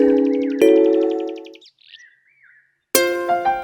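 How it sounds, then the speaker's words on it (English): A crow's caw rendered as a sound effect: loud, harmonic bird calls with a rising sweep, a short quieter warble in the middle, then another sharp call burst near the end. "The crow lifted up her head and began to caw her best."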